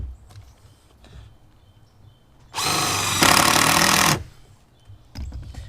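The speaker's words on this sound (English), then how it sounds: "Hit it with my impact. Fasten it down." An impact driver drives a fastener into a deck board on a floating shed deck, producing one loud, close burst of rapid hammering whir lasting under two seconds, with faint handling knocks before and after.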